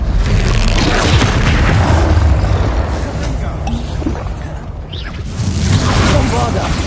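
Bombarda spell explosions in the video game Hogwarts Legacy, loud, rolling booms and rumbling blasts that run almost continuously, with a voice heard over the din.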